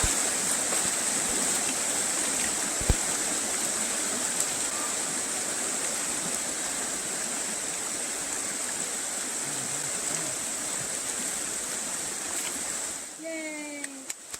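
Steady broadband rush of a river flowing along a wilderness bank, continuous and fairly loud throughout, with a brief quieter stretch near the end where faint bird calls come through.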